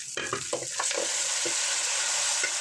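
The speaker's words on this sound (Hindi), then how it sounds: "जो लहसुन अदरक का पेस्ट था वो हमने इसमें डालकर थोड़ा सा हमें इसको पकाना है" Ginger garlic paste sizzles steadily in hot ghee in a pot, broken by a few stirring scrapes and clicks of a spoon early on.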